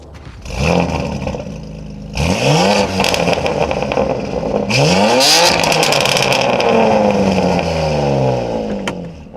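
A tuned 700-horsepower BMW M2 G87 revs hard several times, each rising sweep climbing loud and close, separated by brief dips and a sustained aggressive engine roar.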